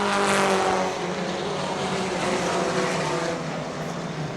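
Four-cylinder pro stock cars race past on a short oval track, with a loud, steady engine roar that peaks early and then holds as a dense, continuous drone.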